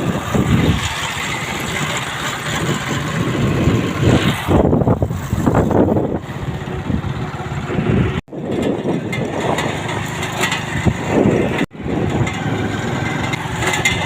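Car engine running on a rural road in Dera Ismail Khan district, Khyber Pakhtunkhwa, a steady close engine drone with broadband rumble held throughout, briefly dipping twice.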